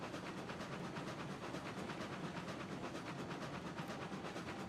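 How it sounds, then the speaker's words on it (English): A train rolls along the track in the RAILROADS Online game, giving a steady, dense rumble with rhythmic rattling and hiss that continues evenly at low level throughout. "This train has no trouble pulling through it."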